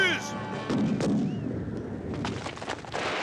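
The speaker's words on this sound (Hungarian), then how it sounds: "Allahna hála, ezek a mi ágyúink!" Cannons fire in a desert battle scene, with heavy booming blasts rolling out one after another over a dense rumbling background, loud and reverberant, with no talk.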